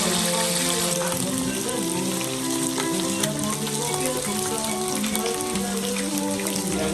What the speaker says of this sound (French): Et là, on fait frire.